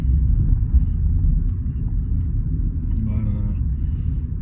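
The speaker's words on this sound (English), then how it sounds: "as I'm making this video, I am driving" Steady low engine rumble and road noise inside a moving car, continuous and fairly loud throughout, with a faint brief higher sound near the end.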